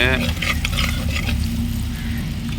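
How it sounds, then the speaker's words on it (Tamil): Sambar powder being stirred into a potato curry in a clay pot, with a steady close sizzle and a few scraping strokes at the start, continuous throughout. "இதையும் நல்லா மிக்ஸ் பண்ணி விட்டுட்டு"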